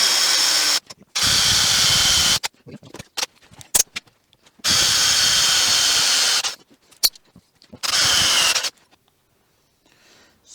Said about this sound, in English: So I drill what, 1, 2, 3, 4, 5 holes.